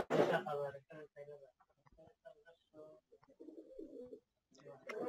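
Pigeons softly coo in low, throaty bursts while a person talks over them, in a home setting where sick pigeons are kept.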